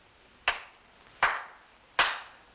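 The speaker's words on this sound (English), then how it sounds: "I clap my hands 3 times, thus." Hands clap three times in a theatrical period film scene, each clap sharp and evenly spaced about three quarters of a second apart, fairly close and isolated against near silence, with no speech.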